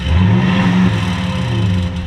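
A Toyota Tundra pickup from the 2016-21 range, fitted with a slant-cut cat-back exhaust, revs loudly up close, a deep throaty engine note rising sharply then holding steady through the exhaust.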